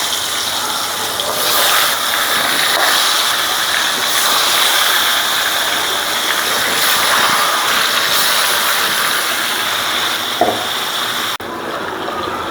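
Fresh river fish (aair) dropping into hot oil in a pan, a steady loud broadband sizzle and gush running almost continuously, with a brief clink near the end before it softens.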